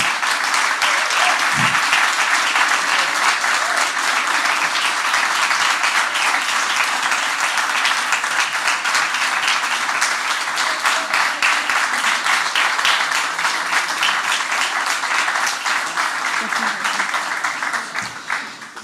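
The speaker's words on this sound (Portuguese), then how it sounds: "pelo qual pedi uma enorme salva de palmas" Sustained, loud applause from a conference audience welcoming a Santa Catarina state deputy, dense and steady for many seconds before tapering off at the end.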